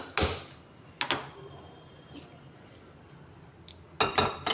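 A frying pan set onto a gas stove for cooking a horse gram and greens palya, giving three hard metallic clanks spaced a few seconds apart, close and clear, with quiet room noise between them.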